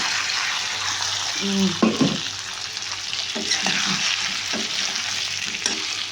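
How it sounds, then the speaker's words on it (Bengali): Loud, steady sizzle of potatoes frying in a pan, broken by a few spoon scrapes and knocks against the metal. "এখন এর মধ্যে আলুগুলো ছেড়ে দেবো। এই যে আলু ভাজা হয়ে গেছে।"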